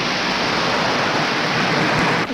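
Heavy rain comes down in buckets as a hurricane approaches, a dense, loud, steady wash of noise with no pauses, ending abruptly.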